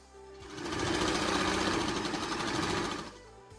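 Sewing machine stitching cotton fabric for a baby headband, a rapid mechanical rattle starting up, running steadily for a couple of seconds, then stopping, close and clear.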